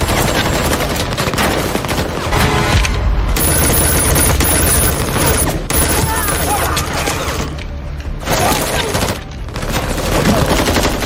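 Dense bursts of gunfire rattle continuously with a few brief pauses, loud and close, mixed with clattering and a tense soundtrack.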